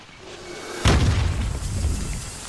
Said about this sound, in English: I'm gonna throw a smoke out there